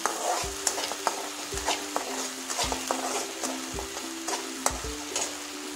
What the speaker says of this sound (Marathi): आता 2 चमचे आपण आलं लसूणची पेस्ट टाकून घेऊ आणि हे परतून घेऊया।